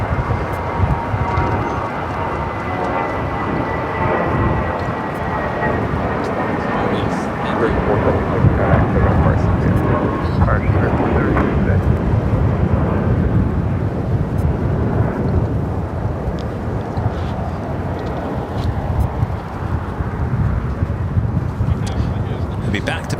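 A Spirit Airlines A320 jet bound for Reno takes off at Los Angeles International Airport, a deep, steady broadband roar that swells slightly midway and rumbles on continuously, with wind buffeting the microphone.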